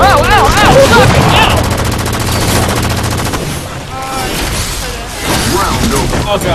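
A grenade blast and rapid gunfire in a video game: a loud burst of automatic shots and thudding impacts, dense and close. Excited voices shout over the action throughout.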